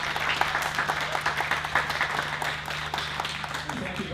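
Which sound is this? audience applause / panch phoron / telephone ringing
audience applause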